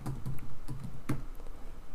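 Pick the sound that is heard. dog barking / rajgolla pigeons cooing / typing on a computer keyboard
typing on a computer keyboard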